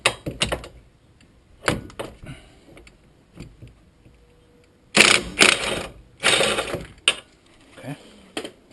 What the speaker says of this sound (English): now the final bolt, we're going to loosen it but not remove it.